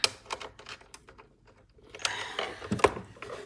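A bolt is screwed in by hand on a Can-Am Ryker motorcycle cup holder, making a few close, sparse clicks and scrapes, then a louder burst of rattling and ratcheting near the end.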